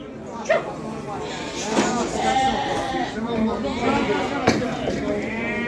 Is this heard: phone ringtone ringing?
no